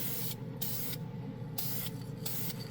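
Dupli-Color primer sprayed from an aerosol can onto a plastic sheet, heard as four close, loud bursts of hissing spray about half a second each, separated by short pauses.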